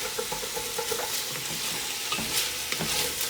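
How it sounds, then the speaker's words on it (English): An étouffée base sizzles steadily in a pot over high heat, with a spoon scraping the bottom in a few close strokes and no voices. "Make sure the heat stays on high heat. Give it another stir."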